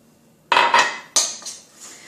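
Butter and sugar are stirred in a bowl, giving a few sharp clinks and scrapes of utensil against the dish, close and brief, with no talk.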